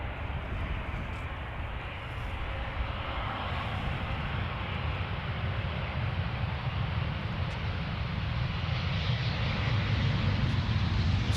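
A KLM Embraer 190 airliner arriving at Amsterdam Schiphol gives off a steady, broad jet roar that holds constant and swells slightly toward the end, heard from outdoors near the runway with no talking.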